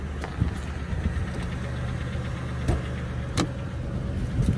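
A 1990 Cadillac Brougham on 24-inch wheels idles with a low, steady rumble up close, broken by a few sharp clicks and knocks, with no one talking.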